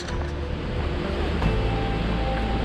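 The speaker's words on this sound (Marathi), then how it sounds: "सध्या तरी खूप वारा सुटला आहे या ठिकाणी." Strong wind roars steadily through forest on the trail to Padargad near Bhimashankar, a dense, continuous rushing gust with no break, close and loud throughout.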